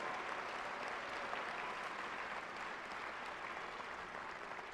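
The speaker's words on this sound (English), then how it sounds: "Give them another round of applause." A commencement crowd at a university ceremony applauds magna cum laude graduates, a steady wash of many hands clapping, heard faintly and from a distance, without talk.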